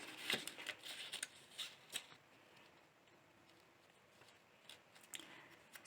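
Soft paper rustling and crisp crinkles as a square of paper for a children's appliqué apple is folded in half, with a few brighter creasing sounds early on, then quieter, near and alone with no talking.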